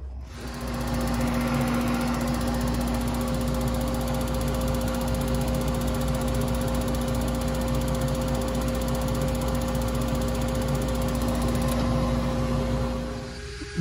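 A gas unit heater is powered on and cycling, giving a steady mechanical hum with a strong low drone and fan-like whir that runs evenly for over ten seconds before cutting off near the end.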